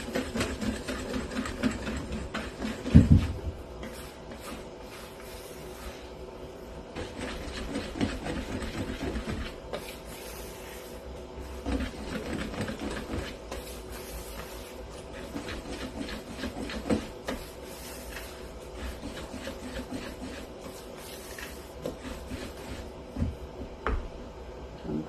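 Cake batter of flour and baking powder being whisked for a Saint Fanourios cake (fanouropita), a steady, close mechanical whirring with rhythmic scraping that runs unbroken for the whole stretch, with no talking.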